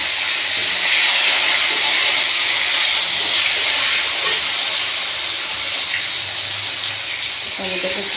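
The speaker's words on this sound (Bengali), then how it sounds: "এরপর দিয়ে দেবো টমেটো কুচি।" Chopped tomatoes hit a hot pan with whole garam masala in a vegetarian potato and pointed gourd curry, giving a steady, loud, close hiss of sizzling throughout with no talk.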